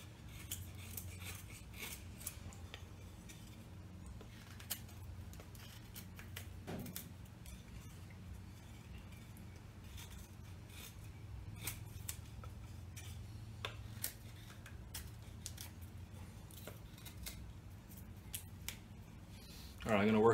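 A Mora or Enzo Trapper knife carves a small wooden trowel, giving faint, scattered scraping and shaving ticks over a low steady room hum, close but quiet.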